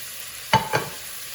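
A spoon stirs mussel soup in a cooking pot, two quick scraping strokes close by over a faint background hiss, with no one talking.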